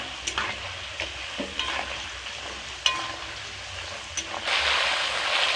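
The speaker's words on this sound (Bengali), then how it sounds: "এটা ভালো করে ভেজে নেব" Steady sizzling of jackfruit pieces frying in hot oil, with occasional stirring scrapes and clinks, close up, growing louder toward the end.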